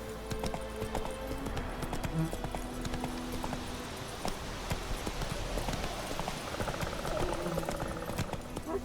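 Roach the horse's hooves clip-clop steadily in The Witcher 3, a continuous close, even trotting rhythm with faint background ambience and no talking.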